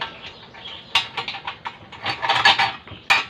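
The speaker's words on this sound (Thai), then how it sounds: "ก็ขันน็อตลงไปนะครับ" A metal nut is fitted and tightened while a DIY cutter with a blade for chopping coconut husk is assembled, giving close, bright metallic clicks and scrapes in irregular bursts, loudest near the middle and end.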